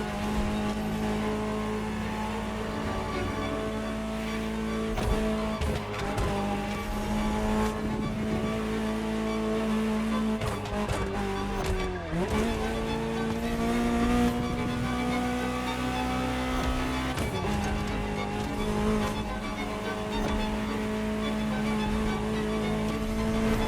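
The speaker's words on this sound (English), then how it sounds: "Just listen to the car you're driving." A Ferrari drives in The Crew Motorfest, its engine droning steadily and loud throughout, pitch rising and falling through gear shifts with a brief dip near the middle, no voices over it.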